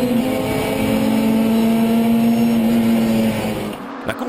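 Onboard a Renault Clio race car, number 59, at Zandvoort in the Benelux Open Races, the engine holds a loud, steady droning tone for about three and a half seconds before it drops away.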